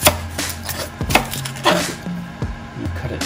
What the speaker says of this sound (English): For our organic onion, same thing, we're gonna want thin slices.